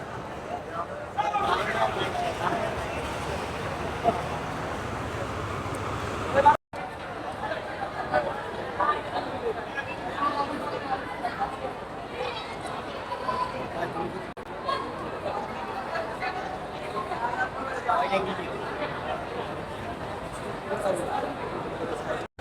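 An overloaded passenger launch heading to Barisal during the Eid homeward rush carries a dense crowd, their chatter forming a continuous babble with a nearby voice speaking over it.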